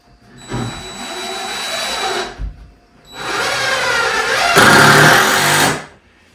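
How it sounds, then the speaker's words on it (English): A power driver drives screws back into framing during a mobile home remodel, running in two loud whirring bursts of about two and three seconds each, separated by a short pause. "Just put these screws back in."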